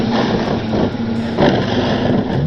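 A Traxxas Slash RC truck drives close by, its electric motor whining and its tires rumbling in a steady loud stretch, with the sound surging briefly as it pops wheelies.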